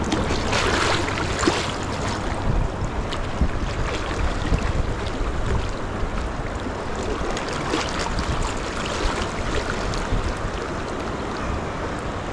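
Wind gusts steadily across the rapids of the Yoshino River in Tokushima, Shikoku, during ayu fishing. It blends with rushing water in a continuous, even roar, and no one talks.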